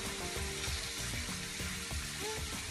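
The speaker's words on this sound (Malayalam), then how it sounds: "ഇതൊന്ന് ചെറുതായിട്ടൊന്ന് ഫ്രൈ ചെയ്തെടുക്കണം." Cubes of paneer lightly fry in hot oil for palak paneer, giving a dense, continuous close sizzle with faint crackles and occasional soft clinks of a utensil.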